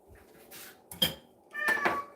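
A cat meows twice close by, short mewing calls, with faint clinks of dishes or cutlery in between.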